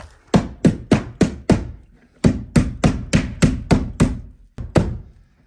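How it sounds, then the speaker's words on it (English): A hammer strikes repeatedly during a Sonos installation, delivering two rapid bursts of loud, close, sharp knocks on a hard fitting, each burst about half a dozen blows with a brief pause between, and no voices. "I'm gonna use my hammer"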